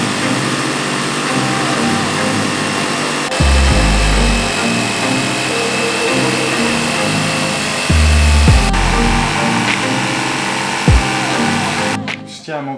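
Power tool cutting through a costly floor panel during a van conversion, a loud continuous motor whine with pitch shifts and brief pauses, ending in sharp clattering noises.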